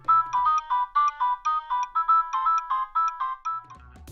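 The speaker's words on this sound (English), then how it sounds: "Hey, at least it had polyphonic ringtones." Polyphonic ringtone from a Nokia 7600 mobile phone, a bright repeating melodic pattern of short, evenly spaced tones playing steadily for several seconds, close and clear with no talk.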